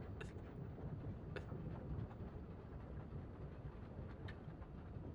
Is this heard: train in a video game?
yes